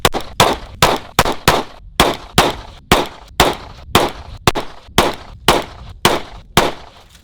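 Rifle fitted with a red dot sight fired in a steady series of about fifteen sharp, loud shots, evenly spaced roughly half a second apart, each with a short ringing decay.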